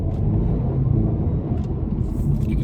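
A 2020 Audi A4 45 TFSI Black Edition accelerating in dynamic mode, heard from inside as a loud, steady low engine rumble with road noise, building and holding throughout without talk.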